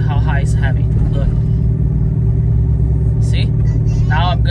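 A Corvette engine idles high in neutral with no throttle applied, a loud, steady low rumble held throughout, with occasional voice-like sounds over it.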